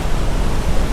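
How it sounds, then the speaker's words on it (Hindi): Loud, steady roar of water falling from a great height at a mountain waterfall near Kheerganga, a dense unbroken rush with no voices. "कितने ऊपर से पानी गिर रहा है और ऐसे लग रहा है जैसे अपने बादल गरजते हैं उस तरह की आवाज़ आ रही है"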